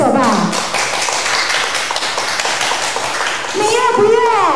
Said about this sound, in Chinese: 我们给耶稣拍拍手吧。